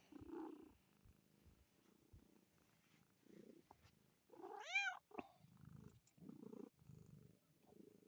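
A cat purrs softly and steadily nearby, broken by one clear rising meow in the middle, all fairly faint and without talking.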